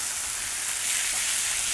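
T-bone steaks sizzle steadily and loudly on a Camp Chef FTG600 griddle, a continuous bright hissing fry with no talking.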